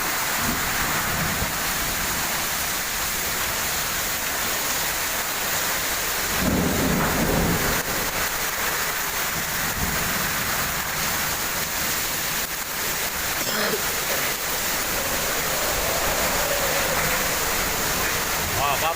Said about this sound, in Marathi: सोसाट्याचा वारा सुटलेला आहे